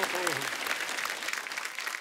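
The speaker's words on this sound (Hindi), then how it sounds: "जोरदार तालियां" Studio audience applause for a comedian on a TV comedy show, a steady, dense wash of clapping filling the whole stretch at even loudness, with a brief voice at the start.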